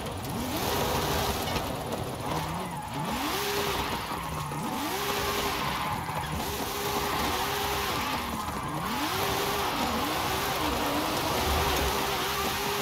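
A car engine in Forza Horizon 5 revs and accelerates continuously, with rising and falling pitch sweeps at each gear shift, steady and loud throughout with no talk.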